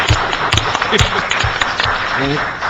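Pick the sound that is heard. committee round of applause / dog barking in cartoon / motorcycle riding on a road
committee round of applause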